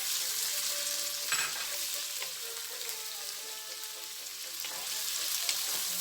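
Pork for Bicol Express is dropped into a pan of frying onions, a loud continuous sizzle with a few stirring scrapes and clinks throughout.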